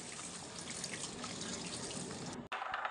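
Tap water runs steadily over chopped onion, ginger, garlic, beans and carrot as they are rinsed in a sink, a loud continuous splash that stops abruptly near the end and then briefly resumes.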